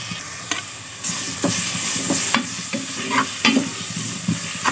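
Small chopped tomatoes hit hot oil in a frying pan for an egg curry and hiss in a continuous close sizzle, broken by repeated spatula scrapes and clacks as they are stirred; no talking.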